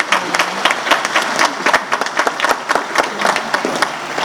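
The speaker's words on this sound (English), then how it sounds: "please applause for them" Crowd applause for a graduating class at a university graduation ceremony, a dense steady patter of many hands clapping with sharp individual claps standing out nearby, loud throughout.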